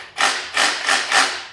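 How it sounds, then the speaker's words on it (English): A Ryobi P223 SDS-Plus cordless rotary hammer drill runs in four short, loud bursts with brief pauses between them, close up, with no one speaking. "Hammer drill function."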